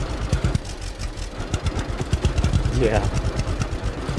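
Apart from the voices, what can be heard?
old tractor engine idling in the video game Farmer's Dynasty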